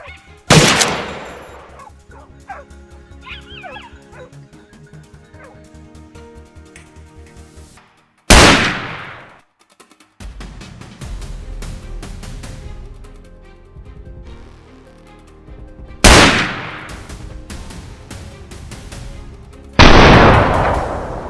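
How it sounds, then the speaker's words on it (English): Loud gunshots fired at a large herd of wild boars on a mountainside, a few sharp blasts spaced several seconds apart with quieter outdoor noise between them. "so from our hiding position, we continuously fired."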